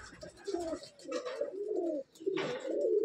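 Several pigeons coo together inside a loft, with repeated low rolling calls close and fairly loud, overlapping almost continuously with one brief pause.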